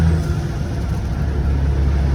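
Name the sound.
semi truck engine accelerating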